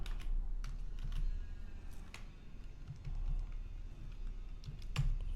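Close computer keyboard typing while entering a for loop in Java code, a steady run of soft key clicks with a few sharper taps, no talking.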